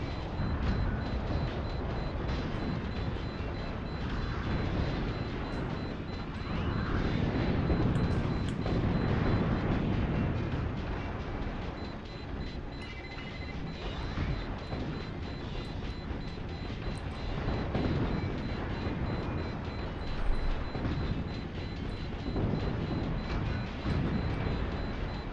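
Mech weapon shots and explosions in the robot combat game Euromech Simulator 2023, a sustained loud roar of blasts and rumbling detonations with bursts swelling and fading, plus one sharp hit near the end.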